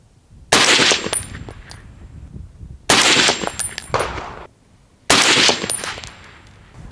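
Three loud, sharp rifle shots fired through a HUXWRX Flow 762 Ti titanium 30-caliber suppressor, each a close, heavy report with a lingering outdoor tail, spaced about two seconds apart.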